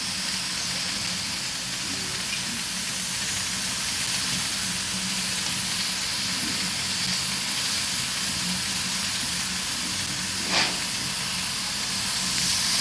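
An oil-fired RENFE steam locomotive in Spain hisses steadily, a broad continuous rush of steam with a faint background rumble and one brief sharp burst near the end.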